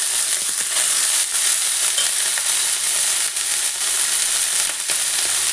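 Chopped broccoli frying in a pan with curry leaves and onion, a steady loud sizzle and crackle running throughout with no pauses.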